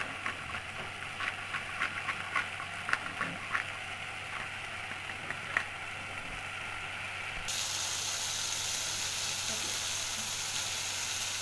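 Spices and black pepper frying in a pot for a peanut butter beef stew, a steady soft sizzle with scattered crackles and light stirring taps, then a brighter, fuller hiss for the last few seconds.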